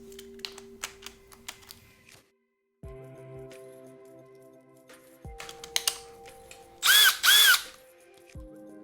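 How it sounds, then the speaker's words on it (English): A Milwaukee M12 cordless drill driver whirs in short bursts with pauses between, close by, ending in a louder high-pitched spin. "I use my Milwaukee drill driver, cordless M12 drill driver"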